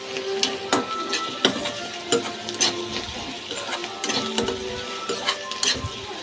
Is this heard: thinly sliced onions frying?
yes